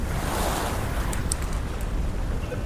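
Sea waves washing up on Malvan beach, a continuous close roar of surf and rushing water with wind buffeting the microphone.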